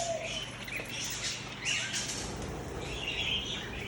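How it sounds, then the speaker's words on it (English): Doves, finches and canaries in an aviary at a parrot sanctuary give scattered high chirps and tweets over a constant, busy background hiss of the enclosure. "we have some other miscellaneous birds in here, like doves and finches and canaries"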